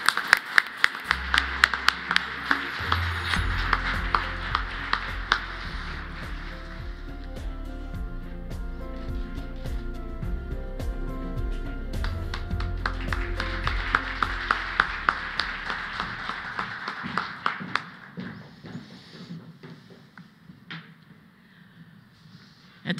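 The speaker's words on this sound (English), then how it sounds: "Let's give them all a round of applause" Scattered clapping and taps from an audience at a government awards ceremony, irregular and fairly close, with a steady low hum underneath that cuts out near the end.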